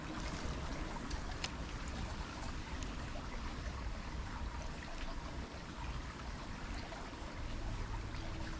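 A small stream flows under a bridge with a faint, steady trickling and babbling, soft and continuous outdoors with no voices.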